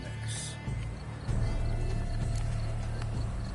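Roach, Geralt's horse in the video game The Witcher 3, snorts and shifts with soft hoof clops over a steady low ambient hum of game music and environment, close and fairly loud throughout.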